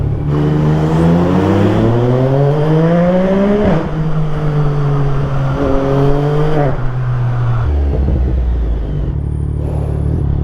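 An old Aston Martin AM3 sports car revs hard nearby, the engine note climbing and dropping in several loud, rasping sweeps before settling into a deep idle rumble.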